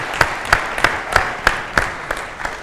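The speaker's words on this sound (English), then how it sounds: "Can you give her a round of applause?" Sparse, rhythmic hand claps at an even pace, about eight in a row, fading slightly toward the end.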